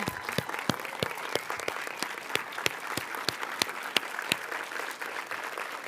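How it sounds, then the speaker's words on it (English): A CreativeMornings New York audience gives Debbie Millman a standing ovation: steady applause with distinct individual claps standing out, heard from a distance and fairly quiet, continuing evenly throughout. "can we all give like a standing ovation, round of applause"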